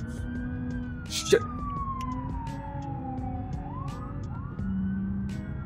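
Police car siren in the BeamNG Drive video game: a wailing siren sweeps slowly downward and then repeats, steady and fairly close, with a brief exclamation from a voice near the start.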